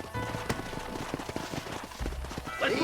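Horse hooves clip-clop in the video game Red Dead Redemption, a quiet, steady run of hoofbeats on hard ground with no talking, ending in a brief higher whinny-like sound.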